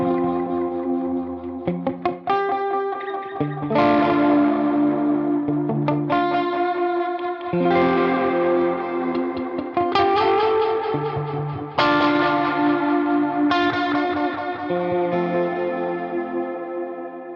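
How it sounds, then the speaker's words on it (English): Guitar played through a UAFX Starlight Echo Station stereo delay with tape warble and modulation, repeated strummed chords and picked notes trailing into wobbling echoes, loud and steady with no voices. "So you can really hear that warble, tape warble, and modulation."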